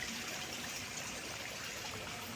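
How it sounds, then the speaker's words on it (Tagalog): Mountain runoff water flows steadily in a stream, a constant close trickling and gushing with no voices. "Daloy ng tubig. Galing sa taas ng bundok yun."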